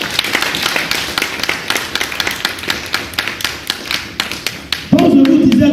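A church congregation claps in steady, rhythmic unison to acclaim the Lord, sharp repeated claps filling the room, then a voice swells over the clapping near the end.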